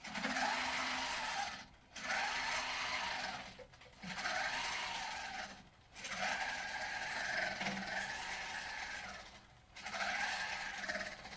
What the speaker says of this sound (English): So that the needle will continue to cycle so that I do get that nice point.